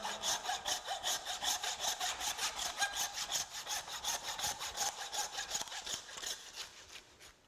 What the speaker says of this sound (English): Then we get the handsaw and saw through the H-bone.